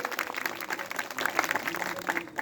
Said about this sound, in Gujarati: જોરદાર તાળીઓથી વધાવી લઈએ આપણે.